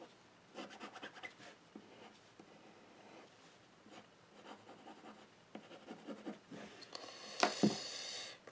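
Small paper tool scoring and pressing into card for a kirigami rose, close scratchy strokes in short irregular bursts, ending with a sharper rustle of handled paper.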